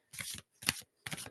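An oracle card deck is shuffled by hand in three quick, close bursts of riffling paper separated by short pauses, with no talk.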